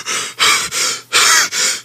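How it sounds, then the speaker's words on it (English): A man gasps sharply for air five times in quick succession, each breath loud, close and raspy, with short silent pauses between them. "causing him to gasp for much more breath of air"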